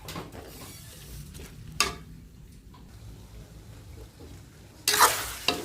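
Sotanghon noodles are stirred in a frying pan with sharp scraping and clattering strokes of a utensil, a few louder bursts standing out over a soft background sizzle, with no talking.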